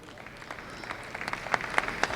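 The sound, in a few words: applause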